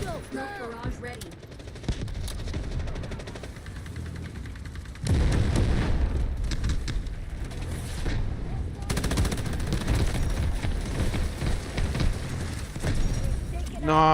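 A smoke barrage artillery strike in the Delta Force video game brings heavy rolling booms and dense bursts of gunfire. The sound swells into a loud, sustained barrage midway and continues with a voice talking over it.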